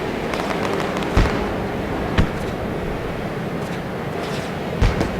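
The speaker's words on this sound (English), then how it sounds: "Fireworks in the air off of turn number 2 at the left side of your screen." Fireworks burst over Southern National Motorsports Park after a Bump 'N Run street stock race, a few sharp distant pops spaced seconds apart above a steady wash of crowd and open-air noise.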